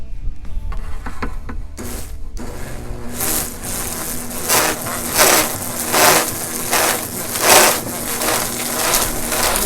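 A garden leaf mulcher shreds dry fall leaves in loud, rough bursts of crunching and whirring that rise and fall as more leaves are fed in, with a steady motor hum running underneath.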